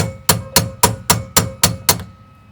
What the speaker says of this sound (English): keep hammering.